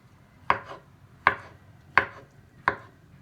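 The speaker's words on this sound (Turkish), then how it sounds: "şöyle pancarlarımızı doğruyoruz" Four sharp knife chops through beetroot strike a cutting board at an even, unhurried pace, each a crisp thud with brief pauses between.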